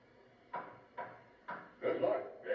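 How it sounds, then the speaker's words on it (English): Knuckles rap on wood in a short ceremonial sequence, about five distinct, close knocks spaced roughly half a second apart, the last ones slightly heavier and doubled. "a simple ceremony that ended by knocking on wood"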